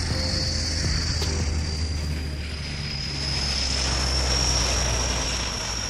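A Convair 580 turboprop air tanker, built to carry fire retardant, flies past with a steady propeller drone and a sustained high engine whine, loud and continuous throughout.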